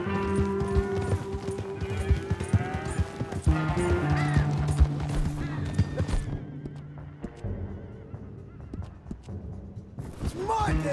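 Horse hooves clopping in Red Dead Redemption 2, running under music, game dialogue and a whinny, with a quieter stretch near the end.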